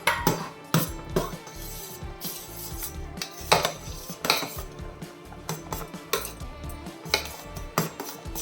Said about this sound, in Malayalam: ഈ സ്പൂണിൻ്റെ ബാക്ക് സൈഡ് വെച്ച് ഞാൻ ഇളക്കി കൊടുക്കുന്നേ